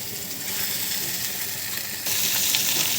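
Bitter gourd sizzles steadily in oil as it is turned and mixed in a pan, giving an even hiss with a slight rise in intensity partway through.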